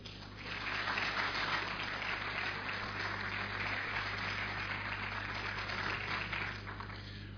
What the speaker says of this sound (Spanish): Así que ya queda con ustedes Jorge Torelli, a quien recibimos con un fuerte aplauso.